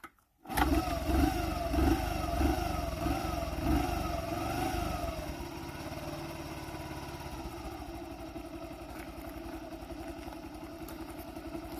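A Honda Chaly CF50 moped engine catches after a short pause and revs unevenly in wobbling surges for several seconds, then settles into a steady, close putter at idle.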